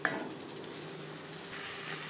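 Boiled potatoes frying in a spice masala for a vegetarian potato and paneer curry give off a steady, close sizzle that runs evenly throughout, with no voices.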